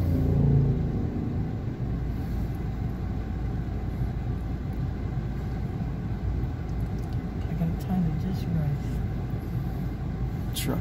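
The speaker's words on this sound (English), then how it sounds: "Truck coming." A truck passing on a city street gives a steady low engine rumble that fills the whole stretch, with traffic noise and voices in the background.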